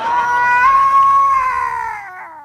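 A cat caterwauls in one long, loud, wavering yowl that slowly falls in pitch and fades toward the end, heard close and alone with no other sounds.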